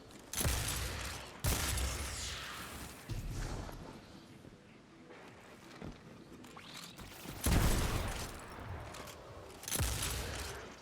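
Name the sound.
shotgun fire in video game Destiny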